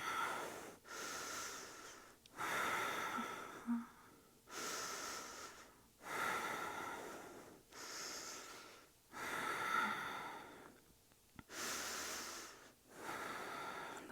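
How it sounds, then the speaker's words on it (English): Slow, deep yoga breathing during a power yoga core workout, with long airy inhales and exhales alternating in a steady rhythm, close and clear with no talk. "And breathe."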